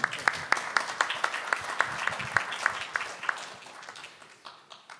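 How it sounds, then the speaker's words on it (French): Audience applause with distinct claps standing out, steady at first and then thinning and fading toward the end. "On peut applaudir."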